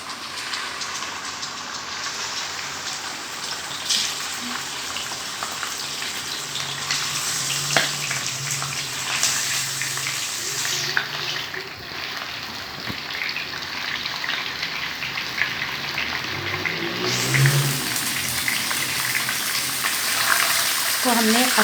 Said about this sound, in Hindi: अब हम इसमें सबसे पहले ये जो चिकन है ये फ्राई करेंगे